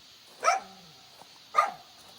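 A dog at a remote mountain house gives two sharp barks about a second apart, fairly close, with quiet pauses between them and no talking.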